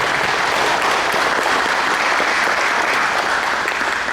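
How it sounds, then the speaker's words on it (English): A football touchdown club meeting crowd gives a player of the week a round of applause, a dense, loud, continuous wash of clapping from many hands throughout. "Give him a round of applause."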